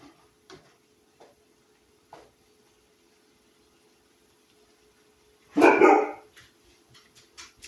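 A single burst of dog barking, loud and close, after a few faint clicks and taps in an otherwise quiet room.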